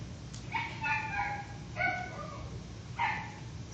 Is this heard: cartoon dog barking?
yes